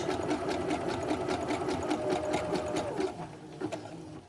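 A sewing machine zigzag-stitches steadily over a fabric edge while mending baggy trousers, a close, continuous mechanical whir with rapid needle ticks that slows briefly near the end.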